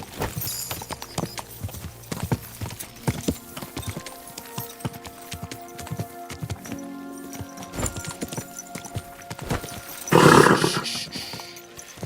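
Horse hooves clip-clopping in the video game Kingdom Come Deliverance 2, a steady close run of hoofbeats with a brief loud snort or whinny near the end.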